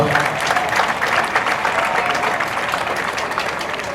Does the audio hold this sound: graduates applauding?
yes